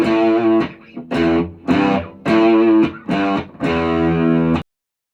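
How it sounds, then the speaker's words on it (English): An electric guitar played through a distortion effect sounds six thick, buzzing chords or notes in a slow, even rhythm. Each one rings loud and sustained, with a short gap between them, and it ends abruptly in silence. "Turn on distortion, have fun with it."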